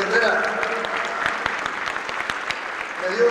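Audience applause at the opening of a women's expo, sustained clapping at moderate level with voices and a few cheers mixed underneath.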